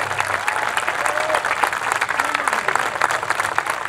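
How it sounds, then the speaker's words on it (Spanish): Audience applause at a tribute evening fills the room steadily with dense clapping, faint voices mixed underneath. "Bien fuerte el aplauso para ellos"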